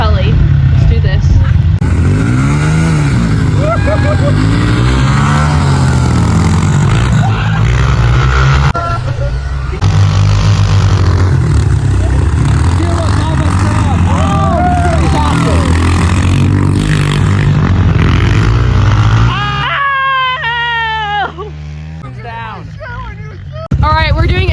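Pit bikes race a one-lap adult heat on a snowy, icy track, with engines droning and revving loudly up close throughout, rising and falling in pitch as they pass. A voice talks over the engines.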